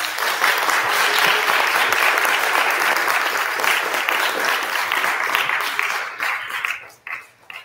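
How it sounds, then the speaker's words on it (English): A live audience applauds after a group finishes scripture recitations at a scriptorium event, steady dense clapping that holds loud for several seconds, then thins and tapers into scattered final claps. "Let's give everyone a round of applause."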